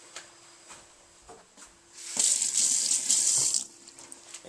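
Tap water gushes into a kitchen sink while thyme is rinsed for a pot of yam, green banana and dumplings, starting after soft handling sounds, running strongly for over a second, then stopping.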